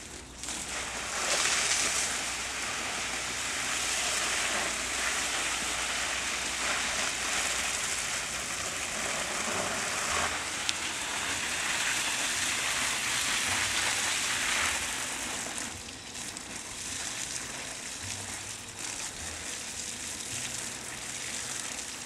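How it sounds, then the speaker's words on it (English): Water sprays steadily from a hose onto a potted plant outdoors, a broad hissing patter that runs close and continuous, easing off briefly near the end. "I'm gonna water this plant so you can see how we water it."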